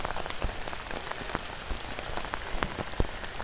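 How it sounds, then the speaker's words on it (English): Steady rain pattering on a surface during a mountain thunderstorm, dense and close, with scattered louder drops hitting nearby throughout. "It's raining pretty good."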